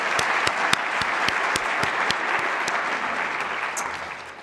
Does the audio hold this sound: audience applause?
yes